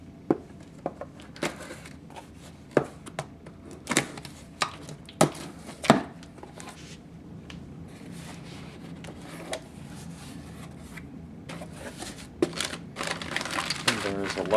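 UK 24-hour ration pack being cut open and unpacked, a series of sharp cutting, tearing and crinkling packaging sounds in irregular bursts, close and fairly loud.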